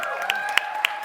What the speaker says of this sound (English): So maybe we can do a lot louder clapping